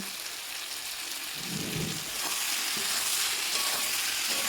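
Mutton frying in a pan with Kashmiri chilli powder, meat masala and salt, a continuous hiss of sizzling with a few soft stirs, close up, no one speaking.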